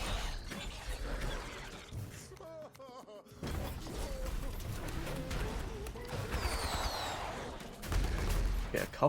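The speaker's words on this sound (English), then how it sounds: "Get a couple of explosions there." Several explosions in a video game fight, heavy bursts mixed with gunfire, clanking effects and a busy game soundtrack running throughout, loud and close.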